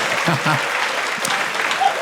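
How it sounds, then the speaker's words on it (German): A TV studio audience applauds at a folk music show, a dense, loud, continuous wash of clapping from many hands, with a voice speaking briefly over it. "wir verabschieden die beiden jetzt nochmal mit einem riesengroßen Applaus"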